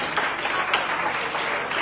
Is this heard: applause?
yes